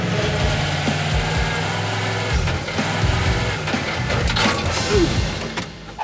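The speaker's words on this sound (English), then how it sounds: "It's a big transmission. It's a little slower to shift than a car." A big truck transmission with a Chevy industrial engine grinds and whirs through a slow gear shift, with mechanical clunks and a steady engine drone close by.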